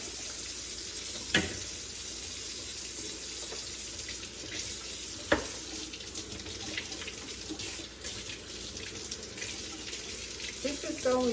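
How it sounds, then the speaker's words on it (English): Tap water runs steadily into a sink, with occasional clunks and splashes as broccoli rabe stems are rinsed under the cool stream. "we are going to wash each stem individually in like cool water"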